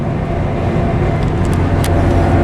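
A Volvo car cruises along an Ohio road, heard from inside the cabin as a loud, steady low rumble of engine and tire noise with a brief faint hiss near the end.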